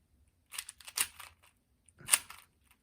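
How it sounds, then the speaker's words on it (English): Moyu Aosu WRM speedcube being turned, giving two short bursts of quick plastic clicking and clacking, close and moderately loud, separated by a brief pause, with no talking. "It feels very good to turn, and it corner cuts very well."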